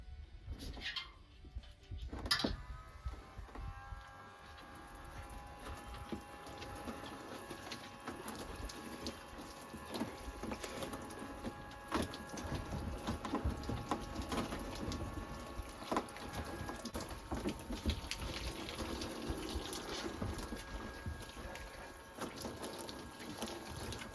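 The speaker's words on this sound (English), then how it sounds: "I've got this little electric pump that I'm going to use to shower with" A small electric pump supplies hot water for a shower at an off-grid tiny cabin, giving a steady hum and water spray throughout, with brief louder knocks near the start.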